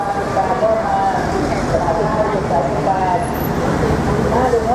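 Inside Bangkok bus number 12 rolling through city traffic: a continuous engine drone and roadway rumble with faint squeaks and rattles, steady and fairly loud, with a voice talking over it.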